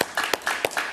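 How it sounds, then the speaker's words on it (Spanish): A television studio audience claps to welcome a guest columnist onto a talk show, sparse individual claps at first that thicken into a brief, fairly close burst. "Un aplauso para él, por favor"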